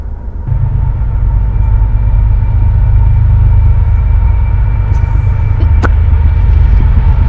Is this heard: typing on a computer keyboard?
no